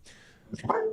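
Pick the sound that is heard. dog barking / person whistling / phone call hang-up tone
dog barking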